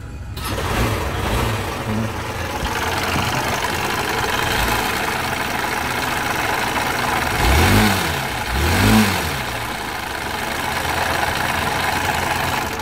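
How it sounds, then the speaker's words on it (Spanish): A DS150 scooter engine runs steadily at idle with a light repetitive knock from a slightly worn connecting rod, rising briefly in two short revs near the end, close and continuous with no talk. "Lo que se oye aquí como un golpeteo ya de biela un poquito desgastada"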